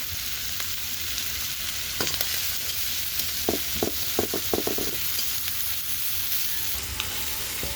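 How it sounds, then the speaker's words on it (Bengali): Crabs frying in oil in a pan or kadai, a steady bright sizzle with scattered crackles and pops from stirring, close and without talk. "এখন কাঁকড়াগুলো সুন্দর করে ভেজে নেব।"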